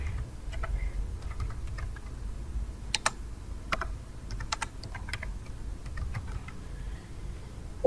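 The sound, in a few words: typing JavaScript code on a computer keyboard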